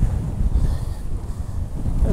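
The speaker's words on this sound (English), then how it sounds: "oh no, it's windy" Strong wind buffets the microphone during a wing foiling session on open water, a loud steady low roar with gusting rumble and no speech.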